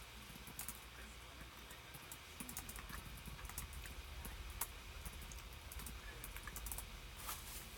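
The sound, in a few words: typing on a computer keyboard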